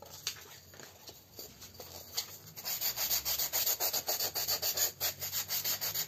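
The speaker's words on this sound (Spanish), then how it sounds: "Esta es una lija de agua. La vamos a pasar por todos los lugares donde pasamos el cúter." Steady rhythmic rubbing of wet sandpaper across a surface, close by, growing louder and more regular in the second half with repeated back-and-forth strokes.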